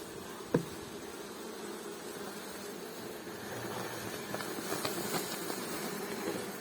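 A dense, steady buzz of many honeybees being shaken from frames during hive work in bad weather fills the clip, with one sharp click near the start and a slight swell toward the end.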